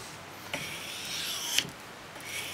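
A hook knife is sharpened on 1200 grit abrasive paper: two or three faint, hissy rubbing strokes with small clicks at their starts, close by, set against a quiet room with no talking.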